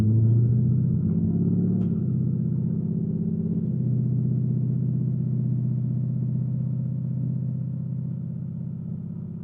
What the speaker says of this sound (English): I'm gonna engage drive, and off we go.